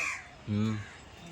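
A single harsh crow caw rings out once, fairly close and loud, with quiet outdoor background before and after.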